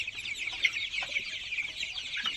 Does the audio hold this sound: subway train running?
no